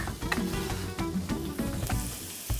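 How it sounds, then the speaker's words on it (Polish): Onion fries in melted lard in a pan for a sausage burrito, a steady close-up sizzle with scattered sharp crackles and pops running throughout, and no one talking. "O, smalec już prawie rozpuszczony, dorzucam cebulę."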